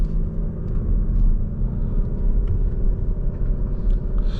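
2025 Toyota Crown Signia Limited hybrid driving, a steady low road rumble and muted engine hum heard from inside the cabin, with faint clicks over it.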